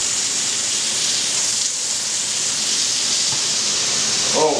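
Seasoned steak sizzling in a very hot pan, a steady loud hiss and spatter close up that holds evenly throughout.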